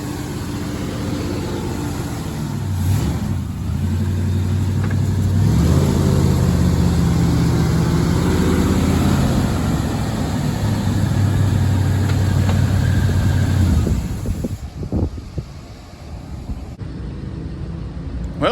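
An old four-wheel-drive farm truck engine runs steadily at idle, with a low droning rumble and some rising revs in the middle, close and loud throughout before it dies away near the end.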